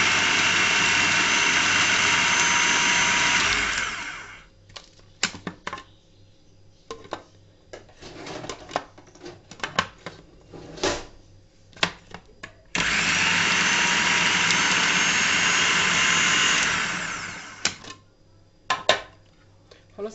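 Electric blender whirring loudly as it grinds breadcrumbs (bksmat) for a meatless mock bofteek mixture, two sustained bursts of several seconds each separated by quieter clatter and knocks in a home kitchen.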